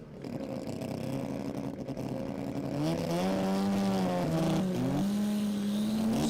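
A loud drag racing car engine at a drag racing meet revs and burbles steadily, pitch rising and falling in bursts, close and continuous with no voices.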